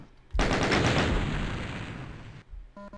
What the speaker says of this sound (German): da müssen wir erstmal hier mal ein bisschen das Maschinengewehr entladen